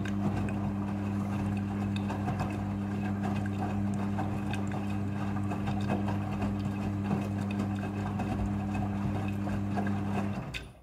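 A front-loading washing machine rinses a thick blanket, giving a steady, close mechanical hum with a low drone and soft water churning that runs evenly throughout and cuts off at the very end.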